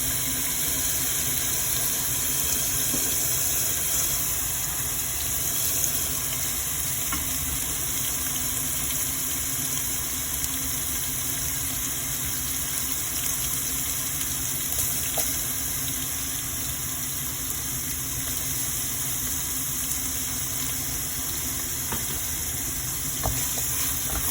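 Onions sizzle steadily in hot oil in a cooking pot, a continuous, even frying hiss lasting throughout with no speech over it.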